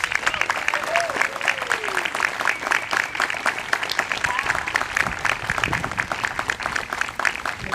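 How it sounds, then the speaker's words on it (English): Audience applause greets a city receiving the Strongest Town Award for 2018, Muskegon, Michigan: a steady, dense clatter of many hands, loud and continuous, with a brief whistle or voice rising faintly within it. "Let's give this city a round of applause."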